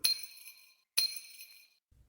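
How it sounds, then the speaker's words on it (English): An audio cue marks a tennis forehand as two crisp, glassy, chiming hits about a second apart, each bright and ringing before decaying, heard alone and clear. "When a player hits a forehand, it sounds like this."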